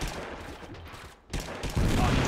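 Gunfire in Totally Accurate Battlegrounds, a burst of loud shots that dips briefly and then returns as denser, heavier firing through the end, with no voices over it.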